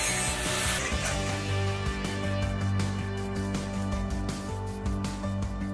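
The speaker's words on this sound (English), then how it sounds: "So today I'm here with my friend, the hacksaw." A hacksaw works through rusty car metal in steady back-and-forth strokes, a rhythmic rasping scrape repeating close up at moderate volume with no talking.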